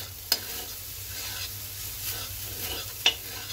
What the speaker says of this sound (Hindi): दोस्तों इसको थोड़ा फ्राई करेंगे फुल फ्लेम में